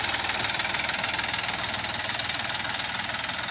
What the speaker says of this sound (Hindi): क्या शानदार आवाज है किसान भाइयों, ये मैसी 241 है।